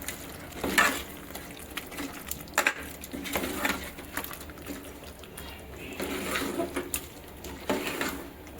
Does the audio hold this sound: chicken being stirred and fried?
yes